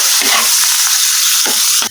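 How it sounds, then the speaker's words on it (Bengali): Meat frying loudly in a pan with salt, turmeric, chili, cumin and ginger-garlic paste, a steady close sizzle broken by a few stirring scrapes, with no talk. "এগুলোকে মিশিয়ে ভালো করে মাংসটাকেও ভেজে নিচ্ছি।"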